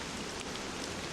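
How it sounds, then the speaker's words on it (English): Steady, even rain hiss in the video game Dracula 3: Path of the Dragon fills the whole moment, a dense wash of droplets with no voices over it. "While we hear the rain"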